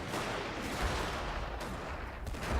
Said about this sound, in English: And now our lines open fire.